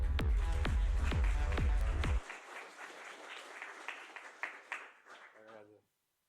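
A game jam audience bursts into dense, loud applause with a few sharper claps, then it cuts off to fainter scattered clapping and murmur that fades out.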